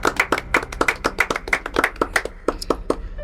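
A church congregation clapping in praise, rhythmic, fairly close hand claps in a steady beat that thins out near the end.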